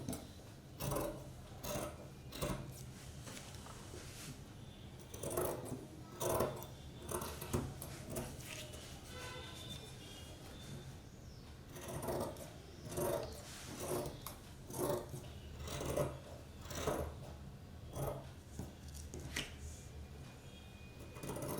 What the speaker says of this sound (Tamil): அதனால நம்ம எக்ஸாக்டாகவே நம்ம கட் பண்ணிக்கிறோம் இந்த இதை.